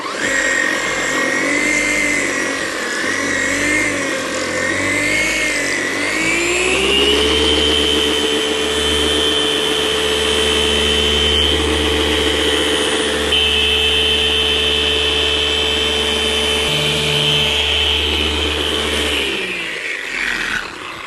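A power polisher works on a car headlight, its motor droning loudly and continuously; partway through, the pitch climbs as the tool speeds up, then holds steady before easing off at the end.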